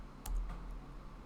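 A few quiet keystrokes on a computer keyboard, typing a short word into a login field, with soft clicks spaced apart against a faint room background.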